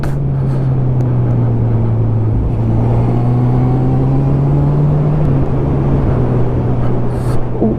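A Honda CB1000R motorcycle ridden in sport mode during its running-in period hums with a loud, steady engine drone and constant wind rush, pitch barely shifting through the ride, heard alone without speech.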